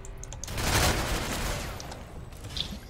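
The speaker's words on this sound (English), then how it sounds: "There's a sniper hard scoping me on the right." Sniper and automatic gunfire crackle in an online shooter, Ghost Recon Phantoms, as a sustained burst of fairly faint, distant-sounding shots rolling together over a few seconds, with no talking.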